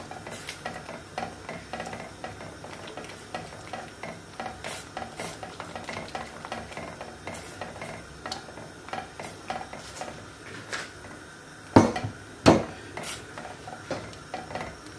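Baobab pulp being stirred by hand for baobab juice, a steady run of soft scraping, rubbing strokes in a bowl, close and fairly quiet, ending in two louder knocks against the container.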